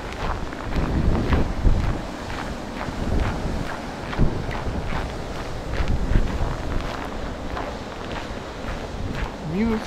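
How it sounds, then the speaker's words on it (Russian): Strong, freezing winter wind on a seaside promenade in Svetlogorsk, Kaliningrad region, buffets the microphone with a steady low rumble and gusts throughout, footsteps faintly audible beneath it. "Ветер стал сильнее."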